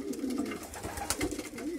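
Racing pigeons cooing the day after a race, soft repeated coos close by with a steady murmuring rhythm, several birds overlapping with no talk.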